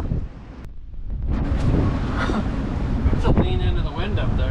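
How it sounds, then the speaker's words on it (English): Wind buffets the microphone on a boat in the Sea of Cortez in a steady, rumbling roar, with a few clicks and faint higher sounds over the gusts. "it's a windy day."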